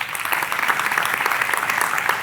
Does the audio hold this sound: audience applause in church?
yes